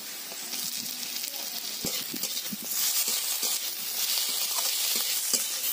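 Chopped tomatoes sizzling in a pan of oil with onions fried until reddish-brown, for a fish roe fritter curry; a steady bright frying hiss that swells partway through, with occasional stirring scrapes and no talk.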